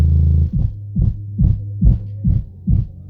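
A DIY 12-inch subwoofer backed by fifteen 4-inch passive radiators plays 32 Hz bass, a loud deep hum pulsing in six even throbs, like a heartbeat, under no talk.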